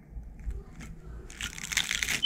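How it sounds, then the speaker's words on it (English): Crunchy bites of freshly cooked reef fish caught in Hawaii, a few sharp crackling crunches building near the end after a quieter stretch of muffled chewing and low rumble. "You gotta hear that crunch. Listen to that crunch."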